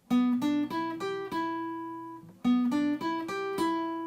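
A clean guitar plays a short picked phrase of a few notes, the last one ringing out, then repeats the same lick.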